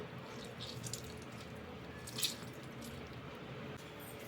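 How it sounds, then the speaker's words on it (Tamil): A lemon squeezed by hand for homemade jaggery, ginger and mint juice in a kitchen: soft, wet squishing with a faint drip and one brief sharper squelch, heard close and quiet. "லெமனை ஸ்க்வீஸ் பண்ணிக்கலாம்."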